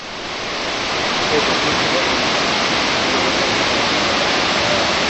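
A waterfall, Shannon Falls near Vancouver, Canada, roars loudly and steadily, a dense, unbroken wash of rushing water with no other sounds.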